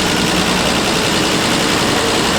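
A car engine fitted with a Zenith-Stromberg carburettor idles slightly fast, a steady close-up rumble with a constant low drone and no voices.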